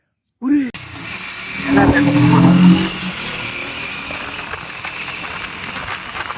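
A Triumph Speed 400 motorcycle engine revs and accelerates nearby, with a sharp burst at the start and then a rising, rough roar that fades into a steadier hum.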